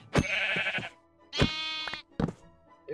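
Sheep bleating nearby in a game, three loud wavering bleats separated by short pauses, with a faint thunk between them.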